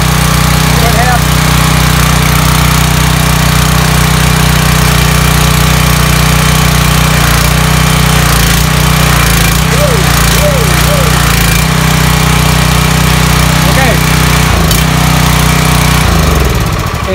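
A Ryobi 2900 PSI gas pressure washer runs loud and close, its engine drone steady and unbroken with the hiss of spraying on top, then the engine note drops away at the end; a voice speaks briefly over the noise.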